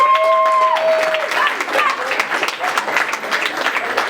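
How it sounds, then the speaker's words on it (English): A crowd applauds steadily after a debate speech, many hands clapping in a dense patter, with a few tonal sounds and some voices mixed in at the start. "Now, give a strong applause to Felicia Ngaka."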